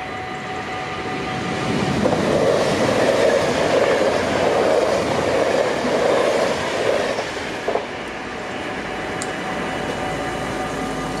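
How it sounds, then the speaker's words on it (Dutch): A train passes a double-track level crossing with half barriers lowered, a loud rolling rumble building in after two seconds, holding steady, then easing off, with a steady warning tone under a busy outdoor background. "Er komt nu een trein aan."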